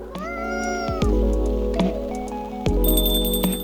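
A cat meows inside the café of the video game Coffee Talk, two or three clear mewing cries layered over steady background music and soft game effects.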